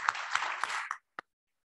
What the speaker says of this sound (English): big round of applause for Yusuf